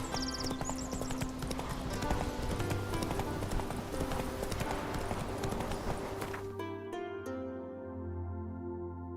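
Horse hooves galloping in The Witcher 3, a steady rapid clip-clop over game music and ambience, loud and close, with a brief whinny, until the hoofbeats cut off and only a low hum remains near the end.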